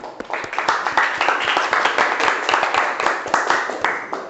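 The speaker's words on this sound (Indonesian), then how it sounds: "Tepuk tangan" A class bursts into applause after a group presentation, many hands clapping fast and unevenly up close, a dense crackle lasting over four seconds, with faint voices mixed in.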